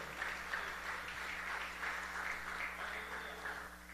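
Congregation applause during a church sermon, steady moderate clapping with a soft rhythmic pulse, slightly distant and fading a little toward the end.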